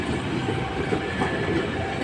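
A commuter train on the route to Purwakarta rumbles steadily past at close range, with a dense low roar and faint wheel clatter throughout.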